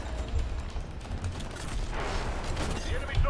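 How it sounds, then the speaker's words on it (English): Gunfire in the video game Titanfall during a capture-the-flag match as a player shoots AI grunts: a dense, continuous rattle of shots and booms over busy battle noise, steady in loudness throughout. "I'm shooting grunts."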